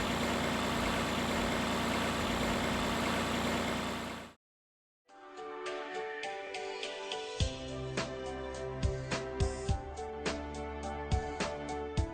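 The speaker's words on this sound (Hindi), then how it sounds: "क्लच को पूरा दबा के फिर ट्रैक्टर को स्टार्ट करें" A Massey Ferguson 9500 tractor engine cranks over and catches, then settles into a steady diesel idle with a regular low chugging pulse, heard close and alone without talk.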